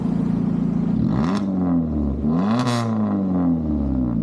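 A Maruti Swift car with a loud aftermarket exhaust sits idling with a steady, deep burble, then is revved twice in quick succession, each rev rising sharply to a raspy roar before dropping back to idle, loud and close.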